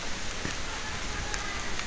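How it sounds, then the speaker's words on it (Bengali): Light rain patters steadily on a surface, a soft continuous hiss with a few faint drops standing out, no voices. "হালকা হালকা বৃষ্টি পড়তেছে"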